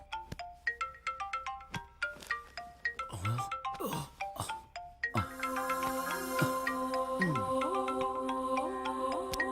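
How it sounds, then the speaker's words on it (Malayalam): A melodic phone ringtone plays a repeating sequence of bright electronic tones, growing into a fuller, sustained chiming melody midway. No one speaks. "ഫോൺ അടിക്കുന്നു"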